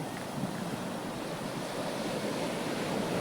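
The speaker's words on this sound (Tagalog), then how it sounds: "Basa-basa ako, inabutan ako ng alon." Ocean surf washes onto a beach in a continuous, dense roar, steady and close throughout with no voices.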